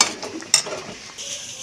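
Pot of cooked dal with spices handled on a stove, with a sharp metallic clank of the pot, light scraping and stirring, and a soft sizzle hissing in the background.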